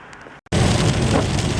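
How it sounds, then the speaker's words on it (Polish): Steady rain drums on a car's roof and windshield, heard from inside the car during delivery work. It is loud and continuous after a brief silence at the start, with no talking. "Piękny deszczyk pada."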